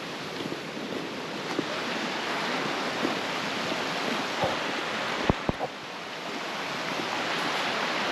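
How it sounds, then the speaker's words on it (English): A stream fed by a waterfall near Lake Louise in Banff gives a constant rushing hiss of water, mixed with light wind buffeting and a few faint handling knocks, steady throughout with no speech. "this must be the stream, so I'm going to assume that it's coming from the waterfall itself"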